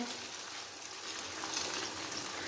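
Beaten eggs frying in hot oil, a steady close hiss and crackle with no breaks, quiet overall.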